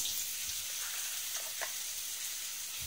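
Ground meat frying with garlic and onions for tacos, giving a continuous moderate sizzle with a few soft stirring scrapes, close and without talk.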